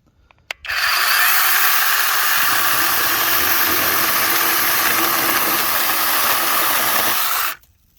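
A Dewalt 20V electric mini chainsaw cuts through wood, a loud, steady, high-pitched whining buzz that starts abruptly after a click, runs for about seven seconds and cuts off sharply.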